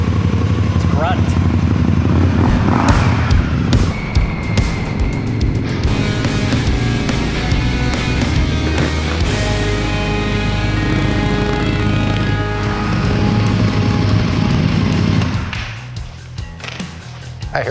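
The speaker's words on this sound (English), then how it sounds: "This 2-in-1, it wakes this thing up. It sounds amazing." A motorcycle with a 2-into-1 exhaust roars loudly and close, revving up and down with a deep, throaty exhaust rumble throughout.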